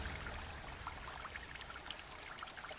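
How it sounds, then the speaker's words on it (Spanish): Falling water in a steady, soft trickling stream, continuous and close with small droplet splashes, no voices present. "El agua sigue cayendo"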